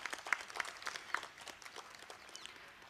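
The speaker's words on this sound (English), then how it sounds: "Can we please have a huge round of applause for sir?" Sparse, scattered clapping from a small audience at a literature festival event, welcoming a guest onto the stage; individual claps audible, faint and somewhat distant.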